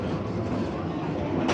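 A ghost train ride at a seaside amusement park rumbles along in a loud, continuous, close roar with steady rattling and no pauses.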